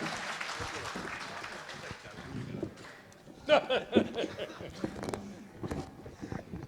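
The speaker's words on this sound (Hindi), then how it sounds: "एक बार जोरदार तालियों के साथ भाई विजय विकास त्यागी।" Applause from the audience at a large poetry gathering at a festival in Hapur, a patchy crowd clapping that swells briefly midway, mixed with voices and background noise.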